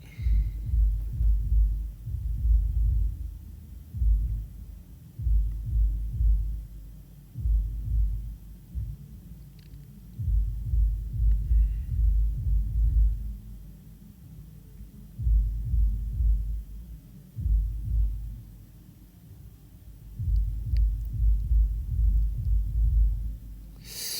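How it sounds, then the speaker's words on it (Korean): Soft, muffled thumping at a steady pulse, like a heartbeat picked up through a microphone during a K-pop group's livestream, low and rhythmic with a faint hum underneath and no talking. "심장 소리 들린다고요?"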